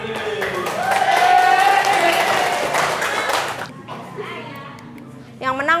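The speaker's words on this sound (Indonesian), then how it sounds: "Tepuk tangan dulu buat Mbak Kanca." Classroom clapping from children swells for a few seconds, mixed with chatter and excited voices, then fades as talk takes over near the end.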